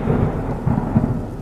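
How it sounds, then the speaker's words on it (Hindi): Thunder rumbles continuously beneath steady heavy rain on a dark stormy night, a horror-story sound effect, with deeper swells of rolling thunder standing out near the middle and toward the end. "बादलों की गरज से वो अंधेरी रात और भी खौफनाक लग रही थी"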